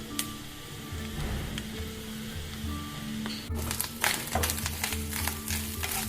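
Shallots frying over a high flame in a pan, a steady bright sizzle and crackle with stirring clatters and scrapes growing busier partway through, no talking.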